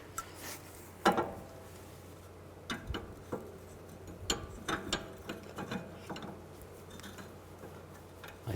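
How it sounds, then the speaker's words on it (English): Ratchet on an inner tie rod tool while working on the steering of a 2007–2011 Honda CR-V, giving short bursts of mechanical clicking at close range over a low background hum. "Now I'll take the inner tie rod tool, get this lined up."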